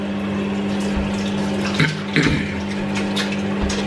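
Water runs steadily from a tap in a continuous gushing stream with a low hum underneath, close by, with a couple of brief bumps.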